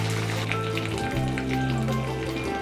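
Curry leaves dropped into hot oil already browned with seasoning for raw mango rava pulihora give a steady, close, continuous sizzle with a faint low hum underneath and no voices.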